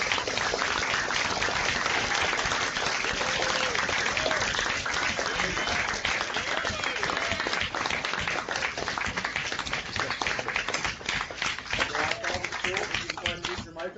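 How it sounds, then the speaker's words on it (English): A Pro Football Hall of Fame virtual event audience applauds Warren Moon, a dense continuous patter of clapping with a few voices mixed in. "joining me in giving a warm round of applause to Pro"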